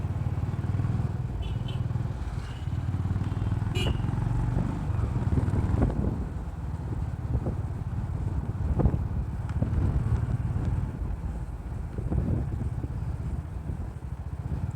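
A motorcycle engine rumbles steadily at close range on a roadside in Tamil Nadu, mixed with wind buffeting the microphone and occasional faint rattles.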